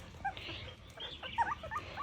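Puppies on a small farm in Ghana whimper and yip in short, high, thin cries. The cries are scattered across a quiet background, close by and fairly faint.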